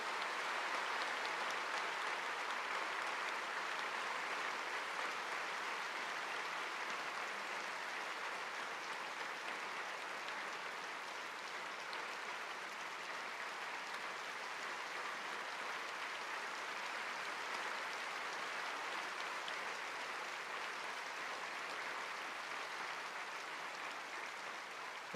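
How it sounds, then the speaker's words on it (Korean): A church congregation at a large mission convention applauds in a steady, dense, sustained wash of clapping that holds evenly from start to finish, with no voices over it. "성도님께서는 큰 박수로 함께해 주시기 바랍니다."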